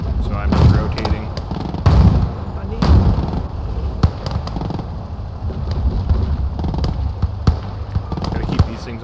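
A flak truck fires in Gates of Hell on the eastern front, sharp booming shots spaced every second or so, then a busier stretch of quieter cracks and impacts, with someone talking over the battle.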